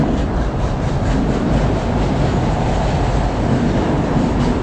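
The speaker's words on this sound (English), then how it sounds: "the train passing by" A passing train makes a loud, continuous rumble with a rolling, broadband roar that holds steady from start to finish, with no voices.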